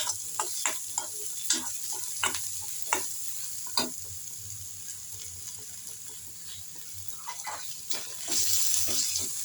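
Onions and curry leaves sauté in a pan for tomato chutney, a steady sizzle broken by repeated scraping stir strokes, close and fairly loud, with no talk.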